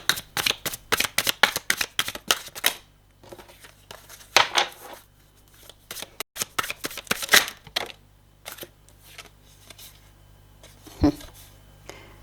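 Tarot cards are handled and laid down to cover others in a reading, with repeated close shuffling, slapping and papery swishes in irregular bursts while a person talks throughout.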